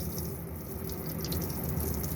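Hot water runs steadily from a tap in a sink, a continuous broadband wash of flowing water with no pauses, fairly close and alone without any talk.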